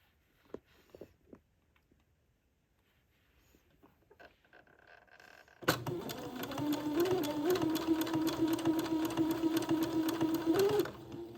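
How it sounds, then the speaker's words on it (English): A sewing machine stitches lace onto a dress, starting after a few soft handling taps and then running steadily and close for about five seconds with a continuous humming whir. "this will take me a minute to get this lace all sewn on"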